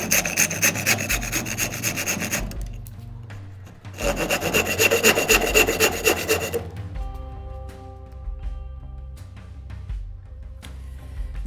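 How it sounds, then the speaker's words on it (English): Two close bursts of a handsaw cutting bevels into the ends of a wooden mallet handle, fast rhythmic rasping strokes with a short pause between cuts, then quieter handling and tonal ringing. "Next, I'm gonna bevel the ends of the handle by using a handsaw."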